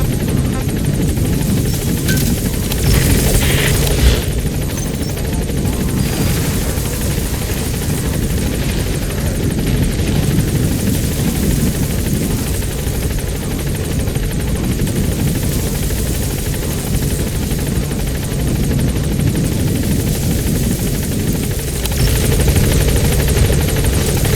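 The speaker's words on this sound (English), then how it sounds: "Support helicopter has arrived" Support helicopter in Metal Gear Solid V arriving, a steady loud rotor drone with whirring blade chop that holds close and constant throughout.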